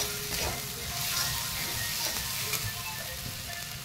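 Home-style Bengali red chicken masala, with spices and extra red chili powder, sizzles steadily in hot oil in a pan while being stirred, a soft continuous frying hiss with faint scraping.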